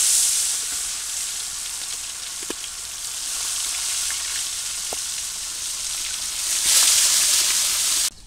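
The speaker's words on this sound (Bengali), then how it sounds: "চলো ভাজিয়ে নিলাম।" Fish pieces deep-frying in oil in a wok (kadai) in a village kitchen, a steady loud sizzle with small pops throughout that briefly swells louder near the end.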